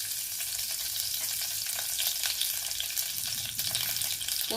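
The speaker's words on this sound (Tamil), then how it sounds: "போட்டு எல்லாம் பொரியட்டும்." Curry leaves and asafoetida frying in hot oil for an Udupi bitter gourd gosthu, a continuous close crackling sizzle with faint stirring sounds underneath.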